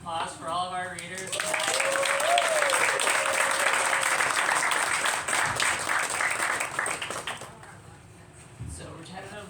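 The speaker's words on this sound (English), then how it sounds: "let's give another big round of applause for all of our readers" Applause from the audience at the Mill City Reading Series in November 2025, honoring the readers: loud, dense clapping that swells quickly, holds steady for several seconds, then fades, with voices murmuring at the start and after it dies down.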